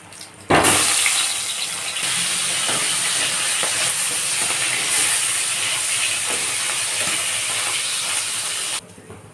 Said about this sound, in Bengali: মাথাটাকে আমি ভালো করে একটু ভেজে নেব